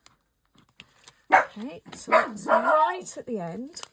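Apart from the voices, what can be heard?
dog barking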